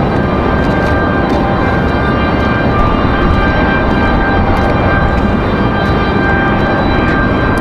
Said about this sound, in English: Southwest 2071 coming in from Nashville